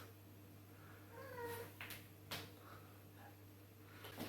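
A soft cat meow or two over a low steady hum, faint and somewhat distant, with a few small clicks nearby.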